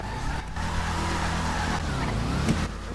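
A car engine drones steadily in a video game, a continuous close hum with slight revving and no break across the few seconds.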